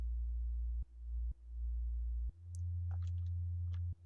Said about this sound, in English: there's a really quiet sub that just plays